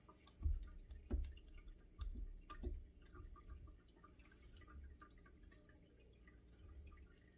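Whey from goat milk farmers cheese drips through a cloth as the curds drain, giving a few soft, close drips early on, then a faint, quiet trickle with no talking.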